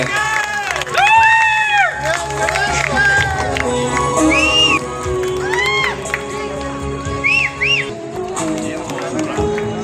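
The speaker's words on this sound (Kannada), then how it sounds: "ಮಹೇಶ್ವರನ್ ಅವರಿಗೆ ಈ ಕಾರ್ಯಕ್ರಮಕ್ಕೆ ಹೃದಯಪೂರ್ವಕ ಸ್ವಾಗತವನ್ನ ಜೋರಾದ ಚಪ್ಪಾಳೆಯೊಂದಿಗೆ" A lively crowd at a Kanakadasa Jayanti celebration in Bhadravati cheers and claps with shouts and whoops over a bright, melodic background, sustained throughout at a loud, steady level.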